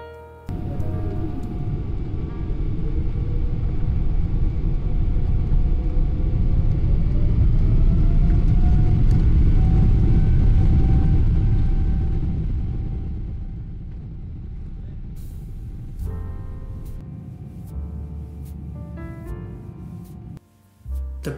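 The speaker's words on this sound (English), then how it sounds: "it's time for takeoff, so here is the takeoff roll out of Singapore" A Singapore Airlines Boeing 777 on its takeoff roll out of Singapore, heard from inside the cabin: a deep engine roar and rumble builds and holds steady, a rising whine climbs through it, then the noise gradually eases off.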